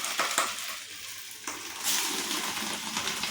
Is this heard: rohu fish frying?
yes